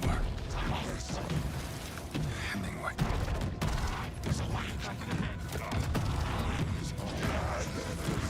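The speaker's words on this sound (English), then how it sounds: "You gotta dodge the shotguns." Enemy shotguns firing in Alan Wake 2, loud blasts and clattering impacts mixed into a busy, dense stretch of game action with a voice talking over it.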